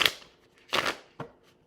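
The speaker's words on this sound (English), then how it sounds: "Let me shuffle one more time." Playing cards shuffled in three quick riffling bursts, close and fairly soft, with short pauses between them and no talking.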